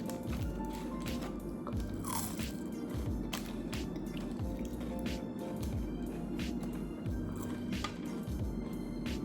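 Crispy Jack in the Box fries are chewed close to the mic, with steady crunching and wet mouth sounds over a constant low background hum, and no talking.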